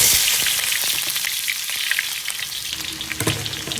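Ginger, garlic and onion frying in a pan, a loud, dense, continuous hiss and crackle close by, with a brief stir or clatter near the end and no speech.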